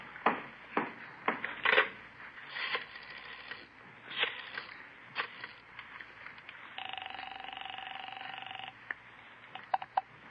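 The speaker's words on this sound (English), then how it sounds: "Call Jess Gonzalez." A telephone number is dialed in an old police-drama setting, a series of short clicks and tones followed by a steady ringback tone, fairly close and with no talk over it.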